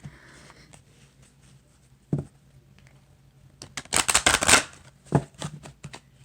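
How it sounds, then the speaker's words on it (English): A tarot-style oracle deck of cards riffled and shuffled, a couple of brief quiet flutters followed by a louder burst of rapid card riffling, close by, no talking. "let's pull a Native Spirit card"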